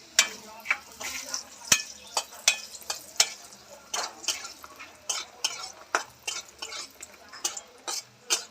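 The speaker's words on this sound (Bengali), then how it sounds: "বন্ধুরা, এই যে বড়িটা ভেজে নেব একটু।" Bori lentil dumplings frying in a pan give a soft sizzle of oil under repeated scraping and clinking strokes of a spatula against the metal, close and uneven in rhythm.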